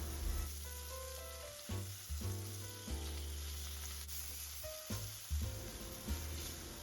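Shrimp and vegetables sizzle in a pan for pasta sauce, a steady close frying hiss with soft stirring bumps and low tonal hum beneath, no talking.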